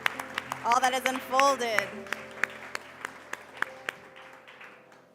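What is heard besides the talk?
audience applause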